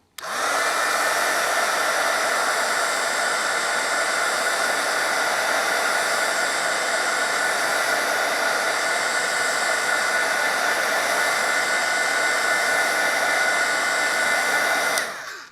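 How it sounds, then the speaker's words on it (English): A handheld heat tool blows a loud, unbroken whooshing whir over paper to dry the ink and paint, running steadily for about fifteen seconds before it cuts off. "I'll hit this with my heat tool to make sure everything's dry"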